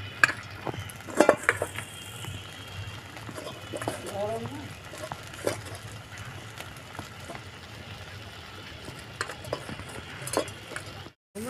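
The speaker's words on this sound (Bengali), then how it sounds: "মশলাটা ভালো করে কষিয়ে নিচ্ছি।" Banana flower is stir-fried with spices and peanuts in a pan for a vegetarian mochar ghonto, with a spoon scraping and clinking against the pan over a low sizzle, and a voice talking at times.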